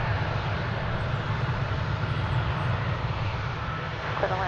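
An Airbus A321neo airliner departs, its jet engines making a steady, broad roar that stays loud and constant with no speech over it.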